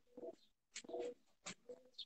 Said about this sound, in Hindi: ये उनके घर का ये कबूतर है